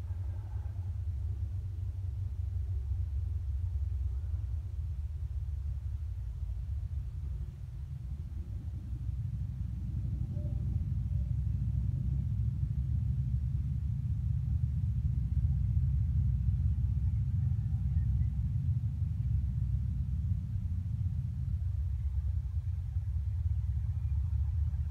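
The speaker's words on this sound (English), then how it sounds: "it's a truck going down the road" A truck passes on a road, a low steady engine rumble that swells in the middle and stays heavy and continuous, heard from nearby with no talking.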